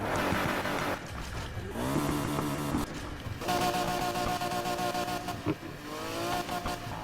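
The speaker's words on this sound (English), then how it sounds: "I think that's a Murcielago engine." A Lamborghini Diablo SV engine in Need for Speed Heat revs loudly and close, with several rising and falling throttle blips and sustained high-revving stretches, and no speech.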